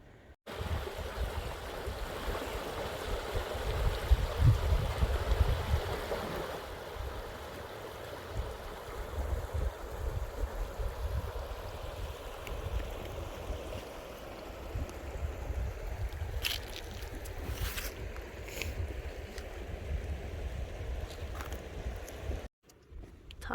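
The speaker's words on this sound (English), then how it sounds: "you do have the river there" A river beside a primitive campsite, flowing in a steady broadband rush with a slight swell early on, close and continuous, with no talk over it.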